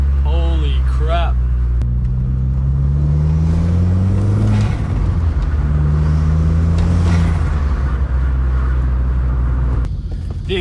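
A Volkswagen GTI with a RamAir intake and turbo revs while driving, its engine rising and falling in pitch through several pulls, with excited voices talking over the loud rumble.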